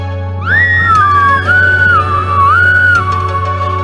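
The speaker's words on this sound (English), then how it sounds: "That's a good whistle." A person whistles a steady, wavering tune for several seconds over a loud, constant low hum.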